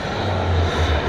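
An Aero Panda Bull turbine jet model plane flies at an RC airshow, giving a loud, steady engine roar with a low droning rumble and no voices over it.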